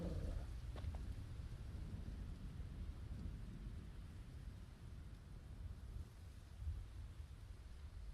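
Low rolling thunder rumbles under steady rain in a Final Fantasy XVI storm scene, a continuous dense wash with a brief crack near the start and no voices.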